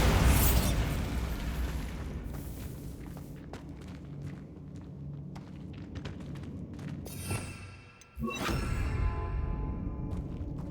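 A Bombarda spell blast in Hogwarts Legacy: a sharp burst at the start fades into a low rumble, then a sudden loud boom near the end that leaves a ringing, crackling tail.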